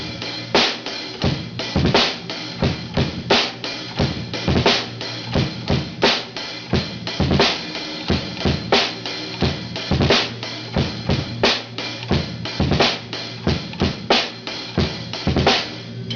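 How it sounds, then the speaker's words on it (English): Drum kit beat with pairs of double bass drum hits leading into each snare hit, a steady repeating pattern with cymbals, loud and close throughout with no talking. "right before a snare hit, we're going to do 2 bass hits."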